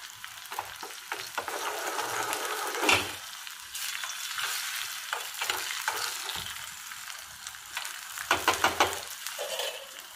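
Cumin, asafoetida, dried red chilies, green chili and garlic sizzling in hot oil, a steady close crackle broken by scraping stirs and a few sharper spatters.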